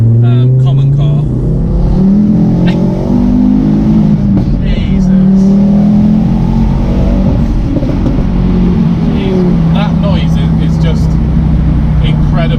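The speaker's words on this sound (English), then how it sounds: "You can't get better than that 5-pot noise" A 400 bhp Ford Focus RS with a five-cylinder engine revs hard, its loud, throaty drone rising and falling steadily for the whole stretch while voices talk underneath.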